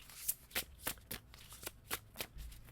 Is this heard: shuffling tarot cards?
yes